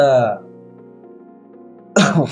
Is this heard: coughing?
yes